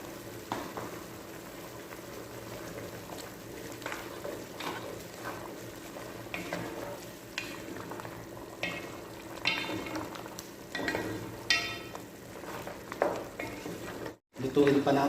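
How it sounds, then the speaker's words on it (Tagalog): Beef adobo simmering and bubbling in a pan as cornstarch slurry is stirred in to thicken the sauce, a steady soft sizzle with scattered scraping stir strokes, fairly quiet and without talk. "Nagkanaw ako ng cornstarch mga ka-recipe. Palalaputan natin ang ating beef adobo."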